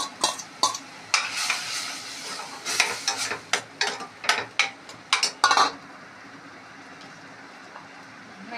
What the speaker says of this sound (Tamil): இப்போ பருப்பு ஊற்றுறேன்.